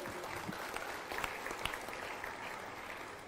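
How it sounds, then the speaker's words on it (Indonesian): Audience applause for a guest speaker at a lecture event, faint and steady clapping from a seated crowd with a few sharper claps standing out. "Boleh berikan tepuk tangan untuk narasumber kita?"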